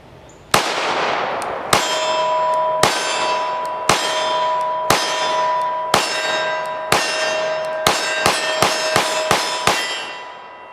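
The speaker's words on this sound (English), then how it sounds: "We're going to shoot some of the Fiocchi 124 grain jacketed hollow points, and these are the XTP rounds, just to see how it functions" A Shadow Systems CR920P compensated pistol fires Fiocchi 124 grain XTP jacketed hollow points: thirteen sharp shots, each followed by a ringing metallic clang, spaced about a second apart and then quickening near the end.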